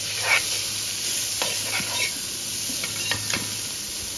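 Chopped onions fry in a pan for a Kerala-style pork varattiyathu, giving a low, even sizzle with a few spaced scrapes and clicks of a stirring spoon over a faint steady hum.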